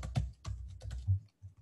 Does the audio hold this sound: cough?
no